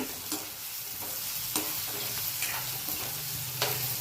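Green chillies sizzle and fry steadily in a hot pan while being stirred during wild-vegetable cooking, a constant close hiss with a few sharp spatters and scraping stir strokes.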